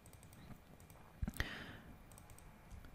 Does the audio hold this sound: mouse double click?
yes